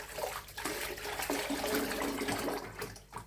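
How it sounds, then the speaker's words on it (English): Merino cross Exmoor wool fleece held under a running tap, water rushing steadily and fairly loudly throughout with no talking. "I'm just literally holding it under the running water"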